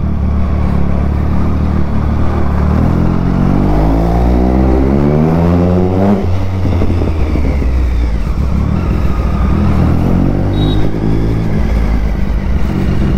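Vintage two-stroke motorcycle engine at a classic superbike event, revving loud and close with rising and falling pitch sweeps, a rough, raspy, continuous roar throughout.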